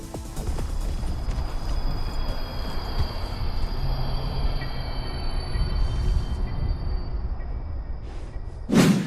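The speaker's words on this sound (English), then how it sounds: "There is also a phantom train that haunts the tracks northwest of Scarlet Meadows." A phantom train haunting the tracks in Red Dead Redemption 2 gives off a steady, loud rumble of rolling rail noise for about nine seconds, with a sharp burst right at the end.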